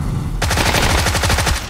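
Sustained automatic gunfire from a firefight in the battle royale game PUBG, a rapid, loud, evenly spaced burst of shots starting abruptly and rattling on for over a second, with no talking over it.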